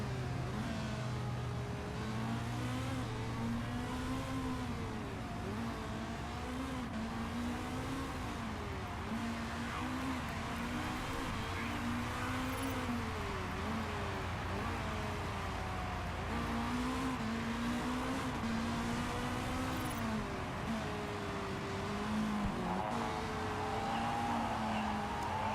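Race cars in the Manager Mayhem racing game, a continuous engine drone with rising and falling pitch as several cars lap together, steady and moderately loud.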